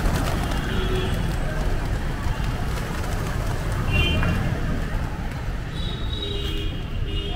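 A flock of pigeons gathers for feed at a busy spot in Jaipur, Rajasthan, with soft cooing and fluttering under a steady din of street and crowd noise, faint voices in the mix.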